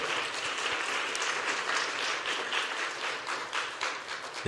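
A church congregation at a Sunday young adults' worship service claps to welcome new students, a full, even wash of applause from many hands that continues steadily throughout.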